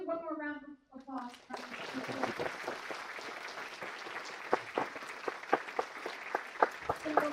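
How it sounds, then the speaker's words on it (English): Talk gives way to a round of applause from an open house audience, scattered individual claps standing out within the steady clapping at moderate volume. "Let's do one more round of applause."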